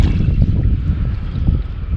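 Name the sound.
wind blowing over Hackberry Lake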